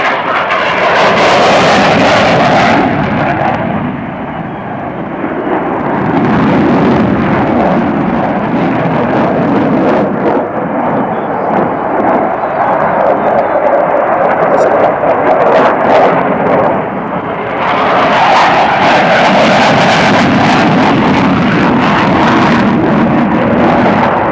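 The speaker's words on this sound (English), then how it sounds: "Watch now as the Hornet demonstrates the minimum radius turn." An F/A-18 Hornet jet performing a tight minimum-radius turn at an air show, a loud, continuous roaring engine rumble that swells and dips as the aircraft circles, dominating the whole stretch.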